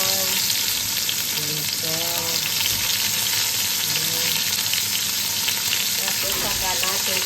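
Onion and garlic frying for a sauerbraten pork sauce, a dense continuous sizzle close up, with a voice speaking briefly over it.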